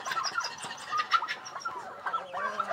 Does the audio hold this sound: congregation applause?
no